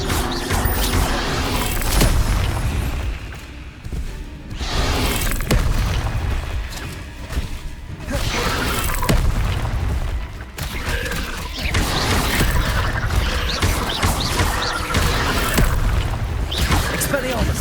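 Spell effects from Hogwarts Legacy, including the Expelliarmus disarming charm, sound as repeated heavy booms and bursts over a dense, loud game soundscape, with a voice calling out under the noise.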